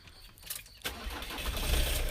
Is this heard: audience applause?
no